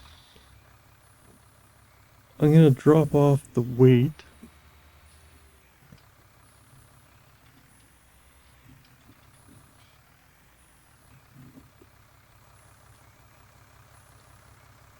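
A tractor engine in Farming Simulator 19 idles with a low, steady hum, and a short burst of talk comes in near the start.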